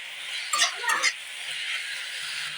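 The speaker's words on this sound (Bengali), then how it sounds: "দিয়ে একটু নেড়ে দেবো" Spices with a pinch of garam masala being stirred in a hot cooking pan, two short scraping strokes of a spoon over a steady sizzle, close and clear, with no voices.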